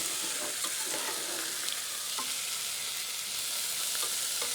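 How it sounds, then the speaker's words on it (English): Butter sizzles and crackles in a pan with white rice, a steady bright frying hiss with light stirring scrapes and small pops, close and continuous with no talking. "You see the butter melting through."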